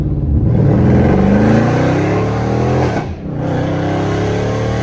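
A loud, close Dodge Scat Pack's engine revs hard, its pitch climbing and then dipping sharply as it downshifts before picking back up.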